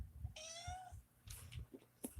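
A house cat lets out a single clear, drawn-out meow against quiet room noise, followed by a few soft indistinct sounds.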